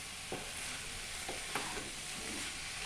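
Hilsa fish head and cabbage fry in a pan with a constant loud sizzle, while a few soft stirring scrapes break through the hiss with no one talking.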